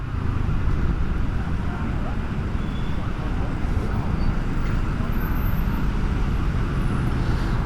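Steady roar of dense Bangkok street traffic, a continuous low broadband rumble of engines and tyres with no distinct pass-bys, loud and unbroken throughout.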